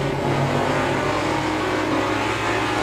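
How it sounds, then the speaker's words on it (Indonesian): Motorbikes passing near a bridge, a steady continuous engine drone with some revving, close and fairly loud throughout, no voices. "Ini dekat ada jembatan ya, jadi ada suara-suara itu motor lewat."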